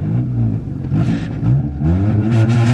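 A worn old beater car's engine revs up close and loud, its harmonic drone rising and falling through several throttle blips with some clattering, and no talk.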